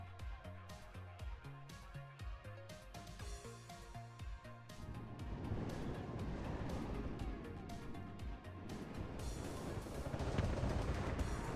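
Uragan rocket artillery firing in the WARNO wargame: a dense, continuous rumbling barrage of launches and blasts that swells louder in the second half, with no talking.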